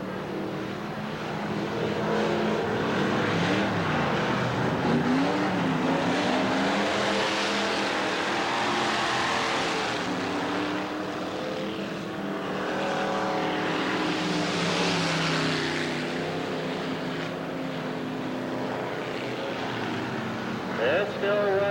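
Race cars roar around a speedway oval in 1989, engine whine swelling and fading as packs pass, with an announcer's voice running over the noise throughout.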